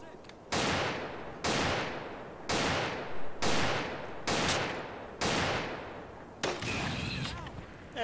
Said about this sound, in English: Oh no, sniper!